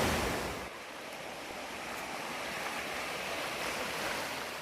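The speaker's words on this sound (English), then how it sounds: "You see the water's flowing." Waterfall rushing over rocks on a mountain trail, a loud, steady broadband roar that starts slightly louder and then holds constant, with no voices.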